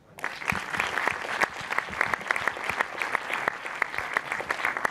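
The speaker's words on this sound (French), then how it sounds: "Vraiment, il mérite d'être applaudi." Audience applause at a film festival awards ceremony, a sustained, fairly loud burst of many people clapping, with a few sharper close claps standing out over the steady crowd patter.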